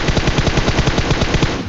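Rapid automatic gunfire in the battle royale video game PUBG, a dense, loud, continuous burst of evenly spaced shots lasting under two seconds with no talk.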